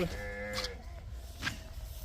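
A buffalo on a dairy farm gives a low, drawn-out moo, close and fairly loud, followed by a fainter shorter call amid farmyard background noise.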